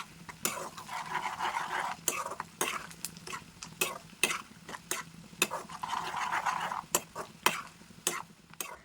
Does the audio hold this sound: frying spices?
yes